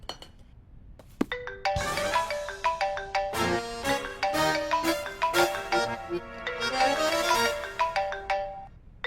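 A melodic phone ringtone plays continuously for several seconds, bright chiming notes repeating in a steady pattern, fairly close, with no voices.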